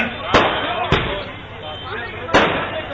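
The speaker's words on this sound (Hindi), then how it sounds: "पटाखे वाले हमारे जो साथी हैं जो खुशियां मना रहे हैं उनसे निवेदन करूंगा कि एक बार इनको बंद करें" Firecrackers go off at an election campaign rally in Haryana: three sharp, loud bangs spaced irregularly over a continuous wash of crowd noise and amplified talk.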